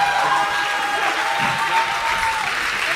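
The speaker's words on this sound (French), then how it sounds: "Alléluia, est-ce qu'on peut l'acclamer?" A church congregation claps together in steady, dense applause that fills the space for the whole moment, with a faint voice carrying over the clapping.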